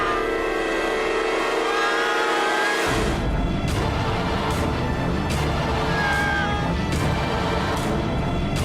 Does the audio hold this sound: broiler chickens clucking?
no